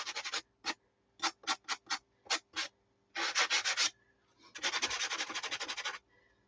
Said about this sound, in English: I'm going to soften up the edges this way, the sanding block.